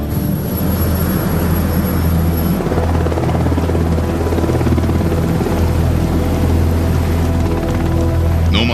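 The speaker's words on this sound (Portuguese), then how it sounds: "O Sea King é o helicóptero clássico de busca e salvamento." A Sea King search and rescue helicopter thunders close and loud, its rotor beat and turbine whine continuous and steady throughout, with no speech.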